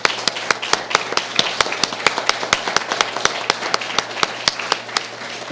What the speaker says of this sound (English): now's the time for the applause